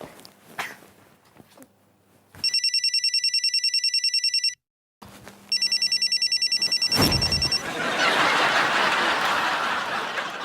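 A telephone rings in two long electronic trilling bursts, loud and close, after faint movement; a burst of rushing noise follows.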